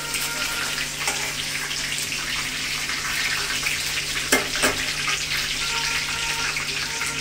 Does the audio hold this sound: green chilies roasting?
yes